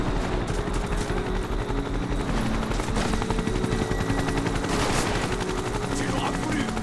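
Rapid gunfire bursts from Final Fantasy VII Rebirth, dense and continuous over game music and rumbling effects, with a voice speaking at times.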